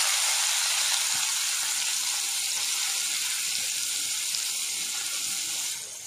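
Chopped onions and green chilies sizzling in hot oil with cumin seeds in a pan, a loud, steady hiss and crackle throughout that eases slightly at the very end.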